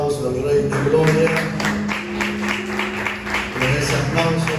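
A church congregation claps in steady applause during a Spanish-language worship service, dense and sustained for several seconds, with a voice and a held musical tone running underneath.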